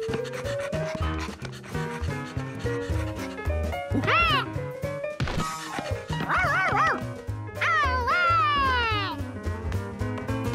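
Dog barking in a cartoon, several barks and yips over busy music with melodic swoops, loud and close throughout.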